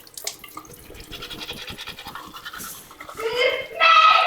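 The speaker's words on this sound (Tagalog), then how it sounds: "Makapag-toothbrush na." Teeth being brushed with a toothbrush, quick scratchy bristle strokes repeating steadily, with a voice and loud singing breaking in near the end.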